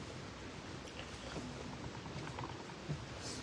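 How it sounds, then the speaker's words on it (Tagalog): Heavy rain patters steadily and densely throughout, a continuous wash of drops at moderate loudness with no voices heard. "Super lakas ng ulan."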